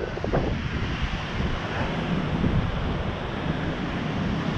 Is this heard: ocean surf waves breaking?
yes